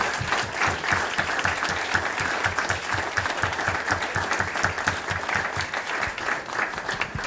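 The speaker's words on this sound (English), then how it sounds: "please give them a round of applause" A crowd claps warmly for the panelists at a gathering on culture and science on the Mauna, a sustained, even round of applause from many people that carries on without letting up.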